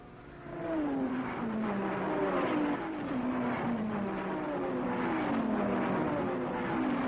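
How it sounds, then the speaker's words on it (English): Racing cars roar along the circuit at the 1961 Le Mans 24 Hours, with Ferraris, a Cunningham Maserati and Triumphs in the field, their engines revving and shifting in a continuous loud, overlapping drone as cars pass close by. "watch for number 17, the Rodriguez brothers Ferrari, tearing through the field after a poor start"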